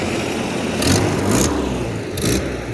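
An 1980s first-generation Toyota 4Runner with a naturally aspirated 22RE four-cylinder and a transfer case doubler crawls a ranch trail, its engine droning steadily and swelling in a few brief revs.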